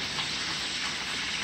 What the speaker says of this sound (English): she's doing the frying